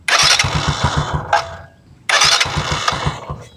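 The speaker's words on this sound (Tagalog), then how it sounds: "So, start natin yung motor." A motorcycle engine cranks and catches twice, each start bursting into a loud, rapid, sputtering idle; the first dies away into near quiet before the second starts up close by.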